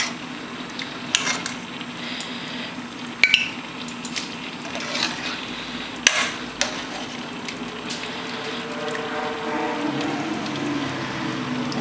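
Thick Dominican-style pinto beans simmer in a pot with soft bubbling and faint sizzling, broken by a few sharp clinks of a utensil against the pot.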